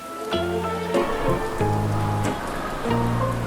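Sudden rain falls in a steady patter under sustained tonal notes that shift in short stepped blocks, with continuous noise throughout.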